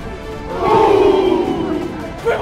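A big stadium crowd at Polar Park in Worcester roars through a Harvard versus Holy Cross college football game, a broad, loud swell of cheering that rises and then holds.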